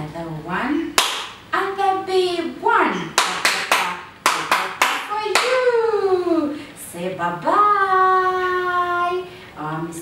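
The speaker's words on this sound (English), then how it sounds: "Let's clap for you. A small clap." Hands clap in a children's lesson on body parts, several sharp single claps scattered between stretches of a woman's sing-song talking, close and bright with short gaps.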